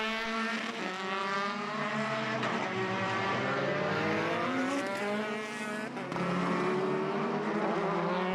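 Racing cars at Mondello circuit in Ireland during a BOSS Ireland race, several engines screaming together loud and close, revs rising and falling through gear changes with continuous overlapping exhaust drone, no voices.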